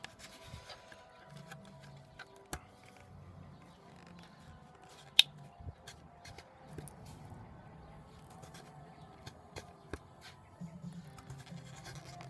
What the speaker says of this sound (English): And you can run your blade and just don't worry about cutting it all in one pass. Just go multiple passes until you cut through.